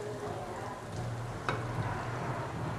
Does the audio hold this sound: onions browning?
yes